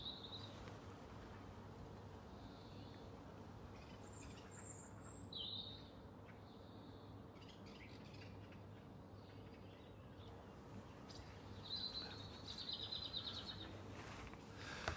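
A blackbird sings in short separated phrases, fairly faint and distant, a few bright warbled bursts spaced across the stretch over a steady low outdoor hum, no voices.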